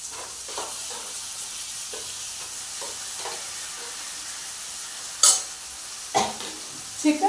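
Chicken sizzles in a pan with sautéed onions for an Indian-style chicken curry, a steady frying hiss broken by a few sharp scrapes and clinks of stirring near the end.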